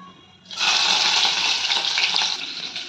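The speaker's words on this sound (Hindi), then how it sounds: "इसमें जो तड़तड़ की आवाज़ आती है ना गाइस, मुझे बड़ा मज़ा आता है ये।" Cumin and chilli hit hot oil for a tempering. After a brief quiet moment, a sudden loud hiss and crackle starts and keeps sizzling steadily, close by.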